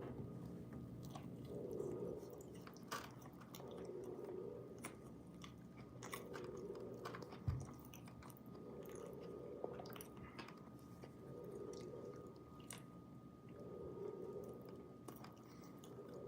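Someone eating a sandwich chews close to the microphone in soft, rhythmic, moist bursts that repeat about every two seconds, with occasional faint clicks and a quiet background hum.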